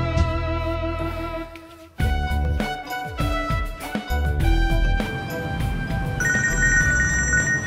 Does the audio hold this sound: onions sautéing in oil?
no